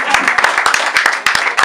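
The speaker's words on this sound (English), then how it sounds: "Why you are clapping like this?" Several people clapping in an uneven, fast rhythm of sharp close hand claps, with some gaps between bursts and no voice over it.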